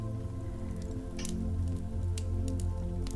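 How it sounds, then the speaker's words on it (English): Steady rain patters on a moored boat, a soft continuous wash with scattered brighter drips and taps close by, no voices. "It's still raining"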